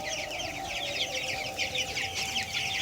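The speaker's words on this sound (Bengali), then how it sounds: "আর আমাদের এ পাশে রয়েছে দেশি মুরগিগুলো" Native chickens on a poultry farm, a dense constant chorus of clucking and chattering from many birds at moderate distance, with steady background hum.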